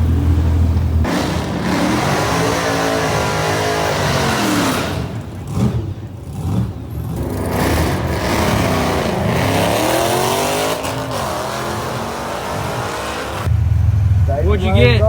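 A drag racing car accelerates hard down the strip, its engine note rising and shifting in repeated sweeps, loud and close, with a brief dip midway and a short idle at the start and end.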